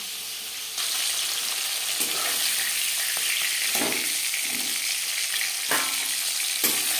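A rohu fish head fries in hot oil with a loud, continuous sizzle and crackle that swells slightly at moments as it is stirred, and no talking.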